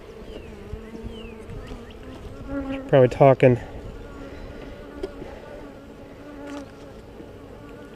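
Honeybees buzz around frames of capped brood during a hive inspection, a steady drone with a short, louder burst of close buzzing near the middle while a person talks throughout.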